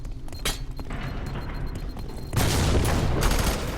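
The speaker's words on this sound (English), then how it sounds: "Here, flashbang out." Flashbang grenade going off in F.E.A.R. 3, a sharp burst followed by a loud, dense blast and ringing roar that sustains for over a second, with gunfire-like cracks earlier.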